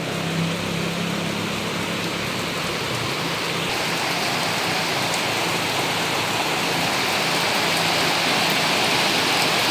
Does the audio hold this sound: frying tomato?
no